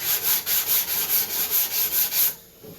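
Wood is sanded by hand in about nine rhythmic back-and-forth rasping strokes, close and fairly loud, before stopping abruptly.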